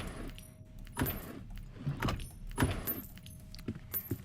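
Coins picked up in the Roblox game Doors, with a series of bright metallic jingles that repeat at roughly one-second intervals over a low background hum.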